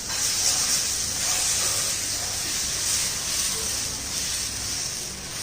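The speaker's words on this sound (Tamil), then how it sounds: "வாங்க தோசை ஊற்றலாம்." Dosa batter sizzling on an oiled hot pan, a steady loud close hiss that continues without break.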